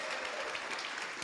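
Audience at a meditation gathering in Seattle clapping for Ajahn Kovilo's graduation, a short, fairly soft burst of steady group applause.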